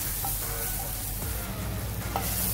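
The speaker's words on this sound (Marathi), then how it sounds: "मी छोटासा टमाटर कापून घेतलेला आहे, तर तोही आपण याच्यातच थोडा भाजून घेऊया." Chopped tomato roasting with spices in a pan for Nashik-style misal, a steady close sizzle with soft stirring scrapes and a couple of faint utensil taps, no talking.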